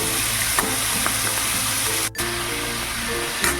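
Prawns fry in butter on a hot tawa, a steady close sizzle running throughout with a brief scrape and clatter as they are flipped, and a short dip in the sizzle partway through.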